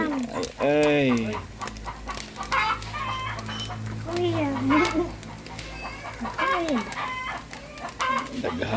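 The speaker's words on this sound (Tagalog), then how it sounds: "Nagtugtugaok na kay mangitlogay na po nagamong mga manok." Chickens and a rooster on a farm cluck steadily, with hens about to lay eggs, the calls rising and falling close by while people talk over them.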